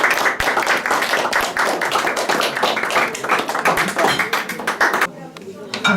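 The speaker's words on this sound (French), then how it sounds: "On va applaudir, non?" Applause and clapping fill a room at an 80th birthday party held at a countryside inn, a steady crowd of hands beating close and loud for about five seconds before fading to scattered claps.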